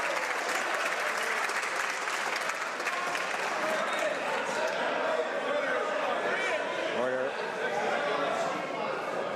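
Members of parliament applaud in the House of Commons during Question Period, a dense, steady wash of clapping that fills the chamber throughout, with voices mixed underneath.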